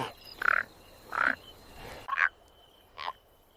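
A frog croaks by a savanna lake at night: four short, separate croaks spaced about a second apart, moderately loud against a quiet, hissy background with no voices.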